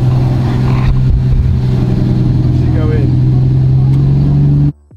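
A Lamborghini Murcielago engine, under rebuild, hums loud and steady at close range, with a faint rising whine in the middle, while excited voices talk over it, before the sound cuts off abruptly at the end.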